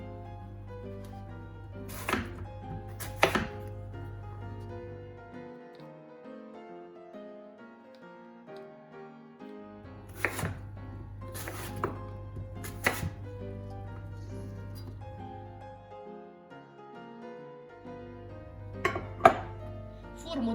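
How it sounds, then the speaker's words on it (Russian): A knife chops apples into small cubes on a board, with a few sharp clustered knocks in separate bursts over a steady low hum. "яблоки нарезаю довольно мелко. Такими небольшими кубиками"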